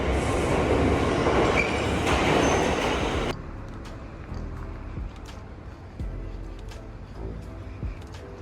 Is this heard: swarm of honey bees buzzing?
no